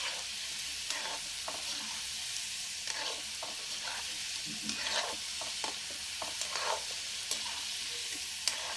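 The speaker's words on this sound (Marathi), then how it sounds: "थोडेसे गोल्डन ब्राऊन होईपर्यंत तळून घ्यायचे" Wheat-flour modak fry in hot oil over low flame until golden brown, a quiet steady sizzle with scattered crackles and occasional stirring scrapes, no voices.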